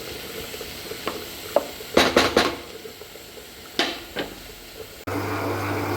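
A utensil scrapes and knocks as prawn fried rice is stirred in a pan, several loud clattering strokes over a low sizzle, followed by a steady hum like a gas burner or extractor.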